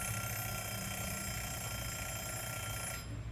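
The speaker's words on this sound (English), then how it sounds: "you're gonna have to do it until this timer goes off." A classroom timer going off, a steady electronic alarm ringing continuously and fairly loud for about three seconds before cutting off, with no talking.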